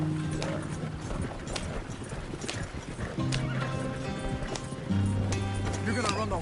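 Horses in Red Dead Redemption 2 clip-clop along at a quick pace with whinnies, close and fairly loud under a musical score, with a voice speaking briefly.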